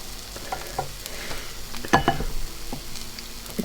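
Capsicum frying in a pan for Persian chelow kebab, a soft sizzle broken by a sharper burst of crackle as the pieces go in, then quieter stirring.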